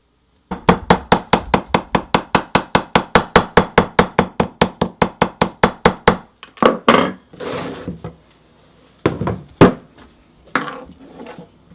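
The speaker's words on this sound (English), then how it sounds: "then I'm going to come back and re-punch the slot punch so that we don't have nylon and we can fit our buckle" A slot punch is hammered through a leather strap for a buckle: about two dozen sharp, evenly spaced strikes ring out close and loud, then a few heavier, irregular knocks and handling noises follow.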